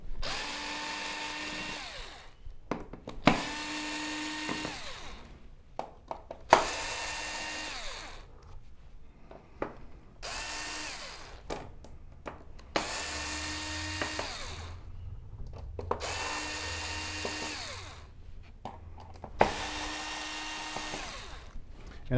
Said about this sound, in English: get all of the screws holding the board into the chassis out of the main board